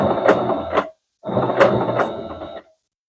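A sewing machine stitches fabric for a Christmas stocking in two short runs of close, whirring mechanical clatter separated by a brief pause, each burst ending abruptly with no talking.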